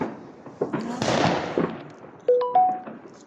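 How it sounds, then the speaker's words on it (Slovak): A firecracker bursts during New Year fireworks, with a few sharp pops and cracks over an outdoor background, and a voice talking briefly in between. "To bola petarda, nie?"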